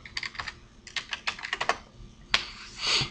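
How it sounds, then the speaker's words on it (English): Quick bursts of keystrokes on a computer keyboard type a web address, close and crisp, ending in a louder key press. "I'm going to go ahead and type it right here in my address bar"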